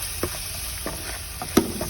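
Ginger garlic paste fries in a pan, a soft continuous sizzle close by, broken by a few light scrapes and stirs, with no talking.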